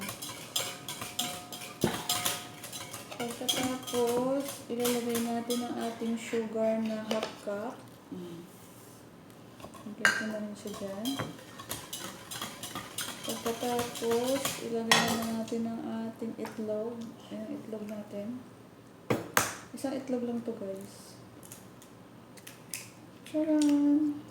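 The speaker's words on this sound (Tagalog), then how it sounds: "i-mix-mix natin siya down para matunaw na sa wine" Ingredients for Filipino star bread dough being stirred into wine in a bowl, a utensil clinking and scraping against the dish in repeated bursts, with someone talking throughout.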